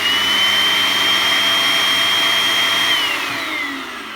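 A Bissell SpotClean carpet cleaner running with a loud, steady whining motor roar and a high tonal whine that drops in pitch near the end as it powers down, close and alone.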